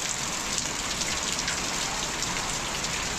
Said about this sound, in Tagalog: Inabot pa kami ng ulan sa daan.